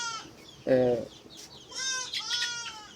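Several chicks peep and cluck in short bursts, with a louder, lower cluck from a hen partway through, close by, at a chicken house flooded by rainwater.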